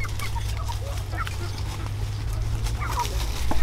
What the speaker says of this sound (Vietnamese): đuổi gà đấy em ơi